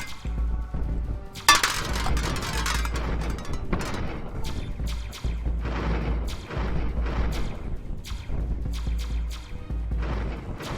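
Missile explosions in the video game Stop the Saturnians boom and crack repeatedly, with layered rumbling blasts and sharp metallic clinks rolling through a busy, loud stretch with no speech.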